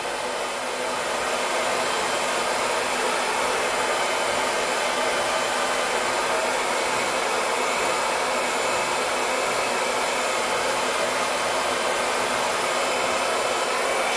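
A hair dryer blows steadily and loudly while drying the roots of freshly cut bob-styled hair, a continuous close whoosh lasting the whole time with no voices.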